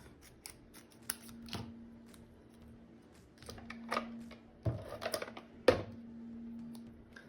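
Scissors cut through a piece of patchwork fabric in a few separate crisp snips and clicks, close and fairly quiet, with short pauses and small handling noises between them.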